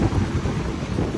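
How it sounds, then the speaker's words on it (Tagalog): Strong wind on a cold morning around 5 degrees buffets the microphone outdoors, a dense, rough roar that rises and falls slightly for just over a second. "Ayan o, sobrang lakas ang hangin."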